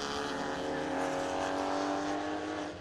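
Porsche race cars circulating at Oulton Park in a club championship race scream past with a high, sustained engine whine that swells and fades, heard from a moderate distance, with commentary faintly beneath.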